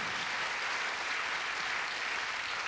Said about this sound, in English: A round of applause for young Jeff